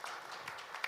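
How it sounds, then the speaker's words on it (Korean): A brief burst of audience applause at a panel discussion on AI startups, a dense, steady patter of many hands clapping at moderate loudness with no talk over it. "큰 박수 부탁드립니다."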